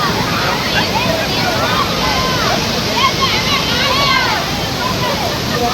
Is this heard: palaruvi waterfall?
yes